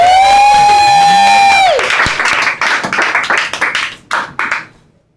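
Audience in a Portland bar clapping for a stand-up comedian, a burst of applause that follows a musical sting, then thins into scattered claps and fades out.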